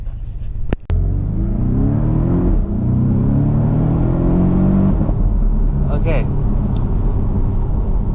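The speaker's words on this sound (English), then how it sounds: "you can hear the very Subaru sounding engine" A base Porsche 718 Boxster with a PDK gearbox drones as it drives, a low flat-four-style engine note that rises and holds through the gears over road rumble. A voice speaks briefly at the start.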